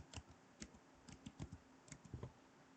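Computer keyboard keys tapped in short irregular clusters during accounting data entry, faint and close, with a few firmer strokes like an Enter press.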